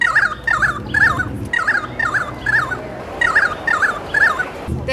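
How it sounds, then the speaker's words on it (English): A currawong calls in a series of loud, ringing, warbling notes repeated in short phrases, close and clear with a brief pause midway. "Oh, that'd be a currawong."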